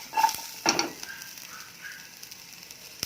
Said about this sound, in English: Lemongrass, chili, and tamarind goes in there, and keep sauteing that a little